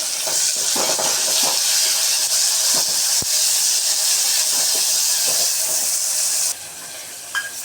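Chopped tomatoes sizzle and hiss steadily in a hot pan for tamarind puli kulambu, a loud continuous sauté with occasional stirring clinks that eases slightly near the end.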